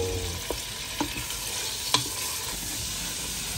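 Tiger prawns half-cooking in a hot pan give a steady, close sizzle, with a few sharp clinks of a utensil striking the pan. No one speaks.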